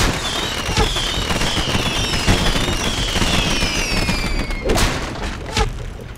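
Fireworks burst repeatedly in the video game RainSlick Precipice, with whistling rising streaks and sharp crackling pops over a dense, steady noisy backdrop, a few louder bangs standing out near the end.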